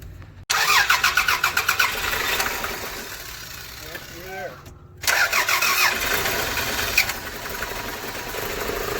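A 1997 Toyota Camry with a 2.2 engine, just fitted with a new timing belt, cranks and catches, then cuts out briefly before revving again; close and loud, with people talking alongside.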